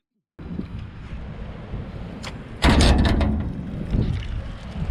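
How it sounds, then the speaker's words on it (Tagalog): Strong cold wind buffeting a microphone outdoors, a steady rushing roar with a louder gust that peaks midway and then eases, with no talking. "sobrang bilis na namang hangin at may dalang lamig pa"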